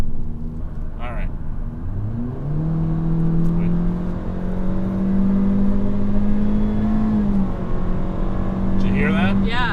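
A 2019 Honda Civic Sport coupe accelerates hard, its engine note climbing smoothly then dropping briefly at a gear change before rising again, loud and close, with brief voices at the start and end.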